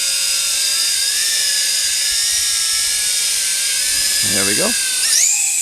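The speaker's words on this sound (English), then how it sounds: "You can just hear them go, can't you, those motors? It's very noisy, but very impressive." Tarantula X6 quadcopter drone motors run with a loud, steady, high-pitched whine that holds throughout, and a brief spoken remark cuts in near the end.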